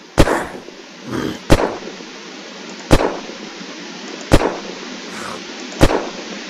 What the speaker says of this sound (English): And now for the firing test.